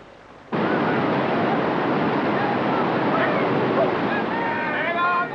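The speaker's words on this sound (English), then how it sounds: "Today, tourists brave the Tasman River in rafts, tumbled along by the surge of water" The Tasman River's surging water rushes loud and constant, a dense broadband roar that starts abruptly and holds steady, with faint bird calls near the end.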